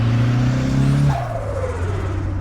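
Forged Ford Focus RS engine pulling hard in second gear, a loud droning rise that cuts off sharply at a shift, then settles into a lower, steadier tone as the car keeps going.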